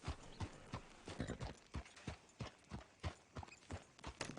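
In a video game, horse hooves clip-clop on the ground in a quick, uneven walking rhythm of many close, clear hoofbeats with no voices.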